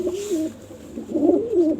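Several pigeons coo softly and close by in a pigeon loft, low rolling calls in two bursts with a short pause between them.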